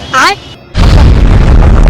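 A Diwali firecracker goes off with a sudden, very loud booming burst after a short voice, then rumbles on in a sustained, close blast.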